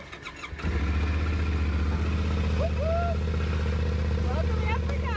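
A Yamaha Ténéré 700 motorcycle engine starts up after brief quiet and settles into a loud, steady idle close by, with a short chirp of voices or squeal over the running engine.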